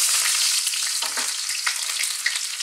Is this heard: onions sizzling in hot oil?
yes